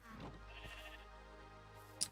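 Sheep in Minecraft bleat softly a couple of times, a faint wavering call over a low steady background hum, with a brief sharper tick near the end.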